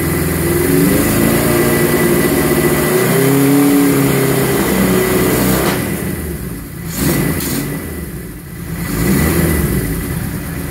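A Suzuki GS1000 motorcycle engine, not fully warmed up after a stator install, revs loudly and close toward 5000 rpm, holding high, dipping twice and rising again, with no talking.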